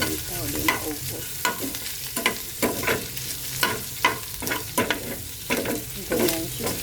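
Food sizzling in a hot pan and being stirred, with loud repeated scraping strokes about once a second over a constant frying hiss.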